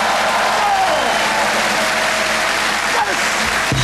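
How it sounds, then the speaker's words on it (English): A comedy juggling show's audience responds with loud, sustained applause that fills the room in a constant roar, while someone speaks briefly underneath. "Applause, come on, yes!"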